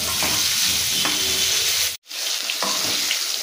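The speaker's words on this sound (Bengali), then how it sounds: "এইভাবে আলুগুলো একটু লাল লাল করে ভেজে তুলে নেবো।" Potatoes frying in a pan with salt and a little turmeric give off a steady, close sizzle with occasional stirring scrapes, cut by a brief silent gap midway.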